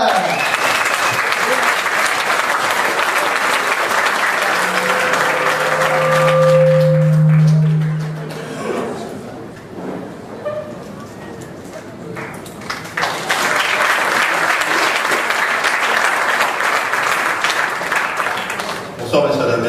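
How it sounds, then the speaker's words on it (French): Audience applause at a live stage show fills the opening seconds as a dense, loud clapping wash, fades out in the middle, then swells again into sustained clapping near the end. "Je m'en vais vous faire un tonnerre d'applaudissements."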